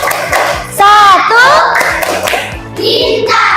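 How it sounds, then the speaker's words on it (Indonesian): Children in a primary classroom perform the Tepuk Pancasila clapping chant, sharp rhythmic hand claps punctuating loud sung chanting voices, close and lively, with a teacher leading. "Mari kita tepuk Pancasila."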